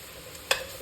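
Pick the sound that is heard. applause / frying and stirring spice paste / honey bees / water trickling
frying and stirring spice paste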